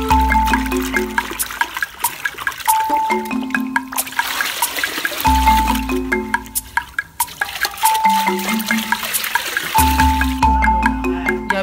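Shinkafa rice is swirled and sloshed in water to remove stones, giving repeated close splashes and trickles in a steady rhythm over about ten seconds, with no talking.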